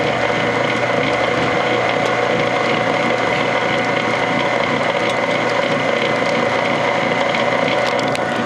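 A Whirlpool direct-drive washing machine drains with the hoses shaking, giving a steady close mechanical hum and rattle, loud and continuous with no talking.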